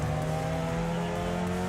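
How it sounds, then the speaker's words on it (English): High-revving four-cylinder engine mounted in the back of a tiny compact car in Wreckfest, screaming at high revs with a steady held pitch and a slight waver, loud and close, with no talk. "A high revving 4-cylinder engine"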